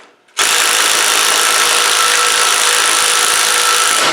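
A DeWalt power tool, likely an impact wrench, bites into large nuts on an engine during a repair, starting abruptly after brief quiet and then running as a loud, close, steady mechanical whir.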